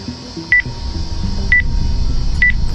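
Three short electronic tone beeps sound at roughly one-second intervals, like telephone keypad dialing, over a low steady rumble with no talking.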